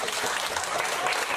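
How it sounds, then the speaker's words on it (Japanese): At a children's magic show in a children's hall, an audience bursts into loud, dense applause, a continuous wash of clapping. "これがスペシャルさんだったら大きな拍手でお願いします"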